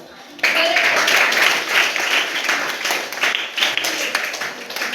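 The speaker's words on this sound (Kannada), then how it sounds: "ಜೋರಾಗಿ ಚಪ್ಪಾಳೆ." A school audience at a government high school quiz programme applauds the winners, a steady wash of many hands clapping, fairly near, with voices mixed in underneath.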